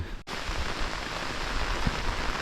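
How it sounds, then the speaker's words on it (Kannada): Steady monsoon rain at a hill resort in Sakaleshpura, a continuous close hiss of falling drops with no voices, holding even throughout after a brief dropout near the start. "ಮಳೆ ಬರ್ತಾಯಿದೆ"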